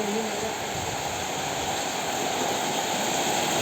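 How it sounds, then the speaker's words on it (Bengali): Heavy rain pouring onto a tin roof, a dense, steady, even roar that fills the whole stretch without a break. "ঝরঝর বৃষ্টির আওয়াজ অনেক সুন্দর"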